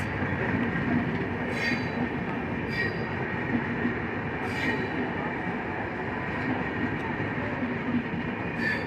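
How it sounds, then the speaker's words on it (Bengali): The Rajdhani Express passenger train rolls steadily past nearby with a continuous rumble, rhythmic wheel clatter and occasional metallic squeals from the rails. "তোমরা যে গাড়িটা দেখতে পাচ্ছ এই গাড়িটা হচ্ছে রাজধানী এক্সপ্রেস"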